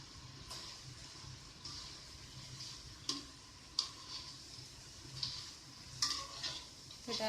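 Ghatiya, a crisp tea-time snack, sizzling and bubbling in hot oil as it fries in a pan, a steady low crackle with occasional sharp ticks and clinks from stirring, with no talk over it.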